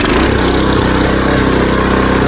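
Husqvarna TF 230 cultivator engine in first gear at full throttle, a loud, steady, buzzing small-engine roar held close throughout.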